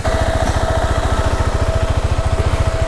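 A KTM 390 Adventure motorcycle engine runs close by at a steady idle, with a fast, even thumping pulse and no voices.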